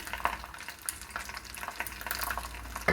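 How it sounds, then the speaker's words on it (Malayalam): Karimeen (pearl spot fish) fries in oil on a banana leaf over a low to medium flame, giving a soft, steady crackling sizzle with scattered small pops, close by and without talk. "ലോ ടു മീഡിയം ഫ്ലെയിമിൽ ഒരു 5 മിനിറ്റ് നമ്മൾ ഒരു സൈഡ് ഫ്രൈ ചെയ്തെടുക്കുകയാണ്"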